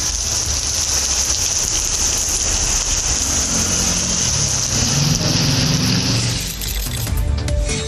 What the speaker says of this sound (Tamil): மயிலாடுதுறை மாவட்டத்தில் இரவு 7 மணிக்கு பிறகு கனமழை கொட்டியது.